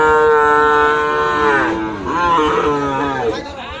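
A cow moos loudly and close by in a long, drawn-out call, followed by more lowing as faint voices sound in the background, at a cattle purchase in Mymensingh.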